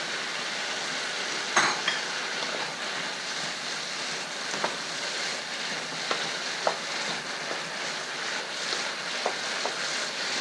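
Chayote and beef stir-frying in a hot pan give a continuous close sizzle and crackle, with scattered clanks and scrapes from a utensil tossing the food throughout.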